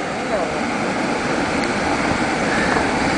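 Waves and rushing water at Playa Jobo beach where a river meets the shore, a dense, steady roar with no breaks, loud and close.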